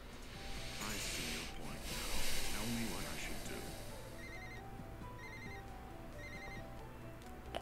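In an episode of the anime Death Note, a telephone rings with a repeating electronic pattern in short evenly spaced bursts, faint and partly under overlapping voices and hiss.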